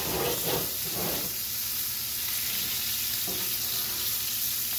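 Steak searing on high heat in a pan while being basted, a loud continuous hissing sizzle with a few splashy bursts near the start, up close and without talk.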